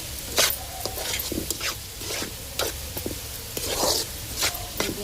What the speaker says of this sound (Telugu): అల్లం పేస్ట్ వేసి ఒకసారి అలాగా కలుపుకుందాం